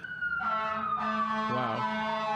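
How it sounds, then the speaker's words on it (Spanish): An ambulance siren wails continuously in downtown Los Angeles, its pitch sliding and shifting as it passes, loud and alone over a faint street hum. "Vamos a esperar a que se vaya la ambulancia."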